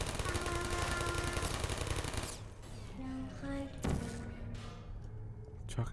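Automated turret in the Portal video game firing a loud, rapid, continuous stream of shots for about two seconds, then breaking off into scattered mechanical noises, with a person's voice mixed in.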